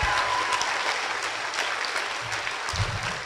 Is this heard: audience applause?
yes